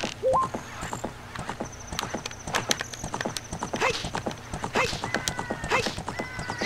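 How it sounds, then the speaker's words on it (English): Horse hooves clip-clopping in The Legend of Zelda: Ocarina of Time, a steady run of close, busy hoof beats over game music and ambience, with a brief whinny-like cry early on. "The goddamn horse won't jump the fucking wall."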